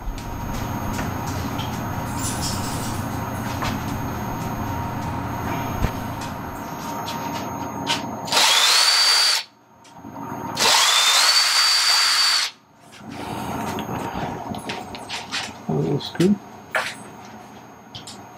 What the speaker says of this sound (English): I'm going to bring the drill.